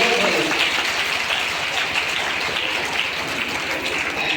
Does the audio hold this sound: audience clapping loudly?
yes